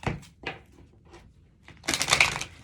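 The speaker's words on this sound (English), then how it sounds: "As I was just shuffling the cards" Soft papery rustles and light taps, then a louder burst of riffling tarot card shuffling near the end, close and with no talking.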